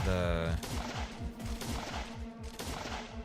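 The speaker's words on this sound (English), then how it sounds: "And we can just shoot him" Rapid gunfire from the survival video game Last Day on Earth: Survival rattles in a steady, dense string of shots, loud and continuous after a short musical tone at the start.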